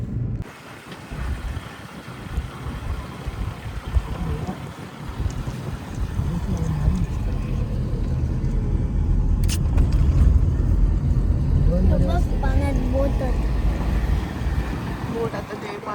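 Fishing boat engine running at sea off Ganpatipule, Ratnagiri, a steady low drone under constant wind buffeting across the microphone, with faint voices in the background.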